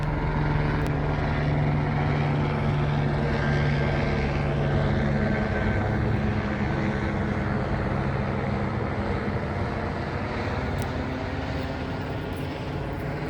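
Helicopter circling overhead, a steady, loud droning engine and rotor hum that holds continuously with little change, no voices.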